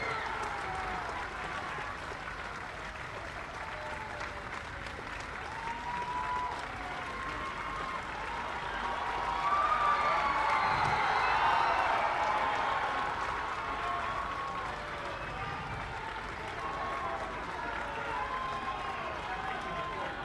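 A large outdoor crowd applauds at the inauguration of riverside ghats in Gorakhpur, sustained clapping that swells louder midway before settling, with a voice calling out over the din.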